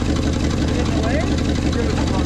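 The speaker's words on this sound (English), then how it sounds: "She's idling now." A Ford dump truck engine idles with a steady, loud low rumble that carries on unbroken throughout.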